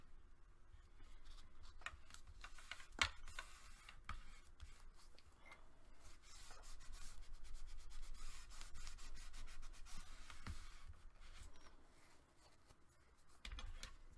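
Paper being burnished onto chipboard in a craft project, a faint, steady rubbing and scraping texture, close up with no talk.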